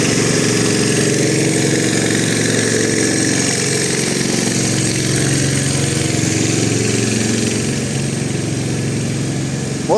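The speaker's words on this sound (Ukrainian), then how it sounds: "Тут навіть дуже потужний генератор. І не один." Several powerful generators run in a street in central Lviv during a hot summer, a loud, constant engine drone that stays steady throughout with no break.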